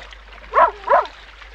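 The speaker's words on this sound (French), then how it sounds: "C'était le chien du navire." The ship's dog, survivor of a shipwreck, barks twice in quick succession, loud and close, with clear sharp tone and silence in between.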